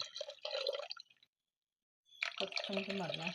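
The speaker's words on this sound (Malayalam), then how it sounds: "അരപ്പിന് വെള്ളം കൊണ്ട് ഇതിലേക്ക് ഒഴിച്ചു കൊടുക്കാം." A short splash of water pours into a pan of ground coconut paste, a brief pause follows, then a voice speaks over more trickling.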